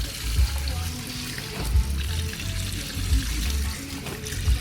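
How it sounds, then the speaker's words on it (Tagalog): Strong tap water runs steadily and close, a full rushing flow with rhythmic low thumps, in a wash area by a parking area in Goa, Camarines Sur, Bicol. "Lakas ng tubig dito eh."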